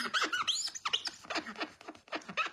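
Glue is scrubbed off a glass mat with hand sanitizer, producing a run of sharp, rapid squeaks in quick uneven bursts, close and moderately loud.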